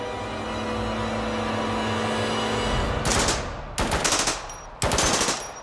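A volley of rifle fire, heard as three loud, sharp bursts in quick succession after a rumbling lead-in, each with a short echoing tail.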